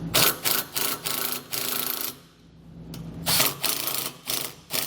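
A power driver whirs in loud, close bursts while driving screws to mount a trailer tail light wiring kit part on a 2015 vehicle, with a short lull between runs.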